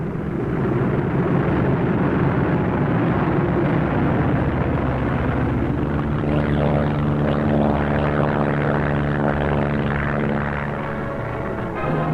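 Wartime military aircraft engines roar at an Adak airfield in the Aleutians as a plane takes off, a loud sustained drone throughout, with steady propeller harmonics emerging in the latter half.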